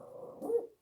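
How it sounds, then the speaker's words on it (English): Dogs bark and yip somewhere in a room, faint and somewhat muffled, swelling into a louder bark near the end with no one talking. "Now hopefully these dogs are going to be quiet."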